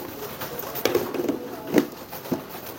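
Pigeon sitting on its eggs gives a few low, soft coos in short bursts, close by and fairly faint, with quiet pauses and light rustling between calls.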